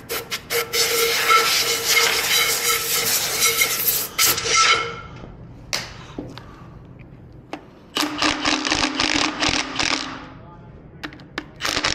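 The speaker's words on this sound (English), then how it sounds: "Blow the crap away from the thread holes." Compressed air blasts debris out of the thread holes on a 40,000 lb Ramsey winch during teardown, two long loud hissing bursts of about four seconds each separated by a quieter gap with small clicks and handling noises.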